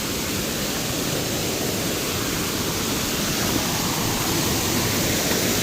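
A cold mountain river along the Appalachian Trail, fed by spring water, snowmelt and rain, rushes in a loud, constant hiss and roar, steady throughout with no pauses or voices.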